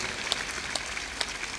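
Audience at a Hindu religious discourse claps in scattered, uneven bursts, fairly faint and distant, with a few sharper individual claps standing out.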